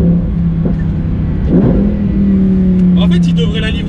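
Lamborghini engine, a continuous loud drone with a rising rev that holds high, while people talk over it.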